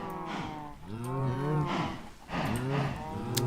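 Several cows moo in a video game, a few drawn-out calls overlapping one after another at moderate volume with no talk over them.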